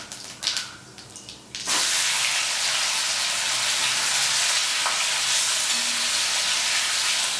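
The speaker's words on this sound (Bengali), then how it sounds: "তেল গরম হলে দিচ্ছি শুকনো লঙ্কা আর তেজপাতা, সাদা জিরে, সেদ্ধ করে রাখা আলু" Dried chillies, bay leaves, cumin and boiled potatoes hit hot oil with a sudden loud hiss that settles into a steady, close sizzle, preceded by a few soft clatters.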